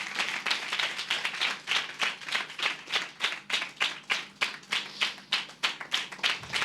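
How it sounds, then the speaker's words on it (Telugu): A church congregation at a Sunday sermon clapping in a steady, even rhythm, many hands together at moderate distance, with no talking over it. "గట్టిగా చప్పట్లు కొడదాం"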